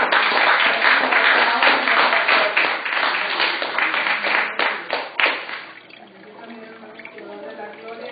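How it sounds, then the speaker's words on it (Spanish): A church congregation claps and applauds loudly for several seconds, the clapping fading out into quieter room sound and faint murmurs. "Déjame un aplauso al Señor"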